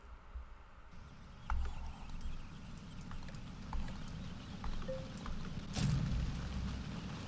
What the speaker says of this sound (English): So weird how it doesn't get darker or anything when it rains in this game.